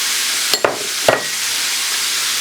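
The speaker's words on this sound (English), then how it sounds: "I'm going to go ahead and add the onion. Just a small amount of onion" A small amount of onion dropped into a hot pan for penne alla Norcina, two short clattering hits followed by a bright, steady hiss of sizzling oil, close and fairly loud, no voices.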